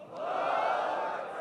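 A large crowd at a Pakistan Peoples Party corner meeting in Nagar roars back a religious slogan in unison, a sustained massed shout that swells and holds for over a second before easing.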